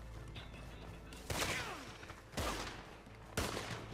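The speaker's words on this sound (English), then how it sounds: "Keep using that sniper" Three heavy sniper rifle shots from Red Dead Redemption 2 Online ring out about a second apart, each a sharp crack with a short echoing tail, over a quiet background.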